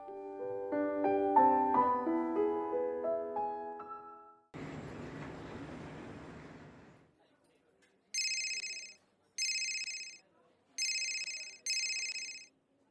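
A mobile phone rings in four short, bright bursts evenly spaced after a missed call, clear and alone following a stretch of music and a rushing noise.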